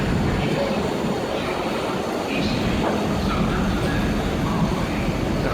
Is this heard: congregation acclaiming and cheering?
no